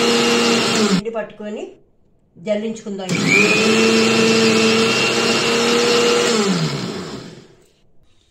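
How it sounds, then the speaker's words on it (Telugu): A mixer grinder whirs loudly, grinding soaked rice for chalimidi in a steady high-pitched drone for several seconds before winding down, with brief talk in Telugu before it starts. "మిక్సీ పట్టి మీకు చూపిస్తా"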